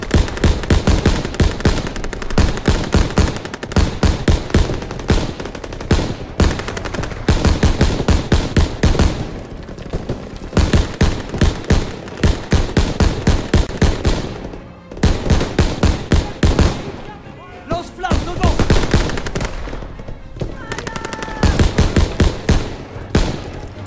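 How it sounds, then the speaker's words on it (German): Sustained bursts of machine gun fire in the World War II shooter Call of Duty WWII, loud, close and rapid, broken by brief pauses, with scattered explosions and no talking. "La mitrailleuse!"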